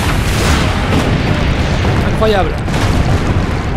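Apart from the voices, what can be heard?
cannon fire explosions in Assassin's Creed Brotherhood video game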